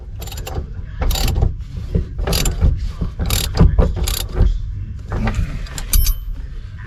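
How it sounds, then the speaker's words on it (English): Ratchet wrench clicking in quick repeated bursts as a bolt is turned on a Chevelle, close and fairly loud, with brief pauses between strokes. "let me ratchet"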